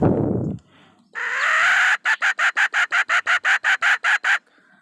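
A blown decoy call imitates a female jungle fowl: one sustained reedy note, then a fast run of about a dozen clipped, evenly spaced clucking bursts, close and loud. A short breathy sound comes before it and there is no talk.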